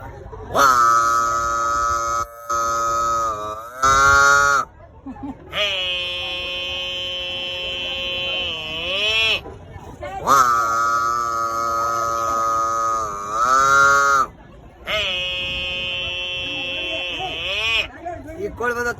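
A man imitates a buffalo mooing, producing four long, drawn-out nasal bellows in a row, each loud and close with a falling tail, separated by short pauses.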